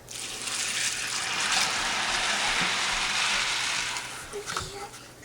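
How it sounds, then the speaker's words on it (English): Water pours steadily over a batch of dried beans for soaking, a loud broad splashing rush that tapers off toward the end. "You're going to take your beans and we're going to cover them with water."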